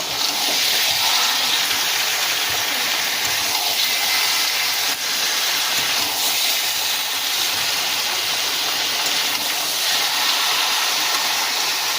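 Chicken pieces sizzle steadily in a hot pan as they are stirred at home, a dense, continuous frying hiss that stays loud and even throughout with no talking.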